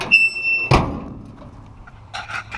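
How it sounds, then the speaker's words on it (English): A 1955 Chevy truck door on a 2005 GMC chassis opens and shuts nearby, with a sharp latch clunk and a creak followed by fainter rattles and clicks. "Doors open and close."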